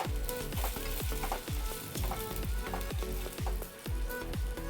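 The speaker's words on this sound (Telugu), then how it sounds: "బంగాళదుంపని ఒక ఫైవ్ టు సిక్స్ మినిట్స్ బాగా వేయించుకోవాలండి" Potatoes fry for a Spanish omelette with a loud, continuous sizzle in the pan, overlaid by a fast, regular series of scraping stirs.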